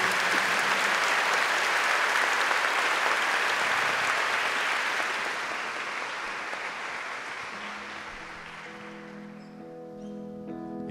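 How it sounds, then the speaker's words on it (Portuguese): A church congregation applauds the Gospel reading at Mass, loud sustained clapping that gradually fades over several seconds before a few tonal instrument notes enter near the end. "Podemos aplaudir o Santo Evangelho"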